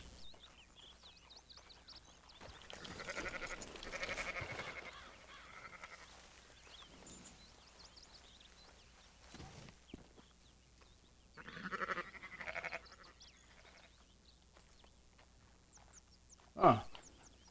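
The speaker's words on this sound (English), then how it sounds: "There's a lot of sheep out here" Sheep in the open countryside of Red Dead Redemption 2, bleating in a few scattered calls at middle distance, mixed with someone talking, faint ambience and a sharp click near the end.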